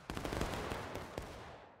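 A musket volley rings out in the War of Rights video game at School House Ridge, several near-simultaneous shots merging into a dense crackling burst followed by a smaller second report, loud and close with no talk over it.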